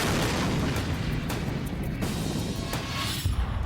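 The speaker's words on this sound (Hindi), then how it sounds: "रूस को क्राइमिया से जोड़ने वाले ब्रिज पर जोरदार धमाका हुआ" A loud explosion strikes the bridge linking Russia to Crimea, heard as a series of heavy booms and crashing bursts over a rumbling roar, close and dense throughout.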